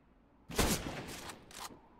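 UMP submachine gun fire in CS:GO comes as two loud, close bursts of rapid shots, the first longer and the second shorter, with a short gap between them and no voices.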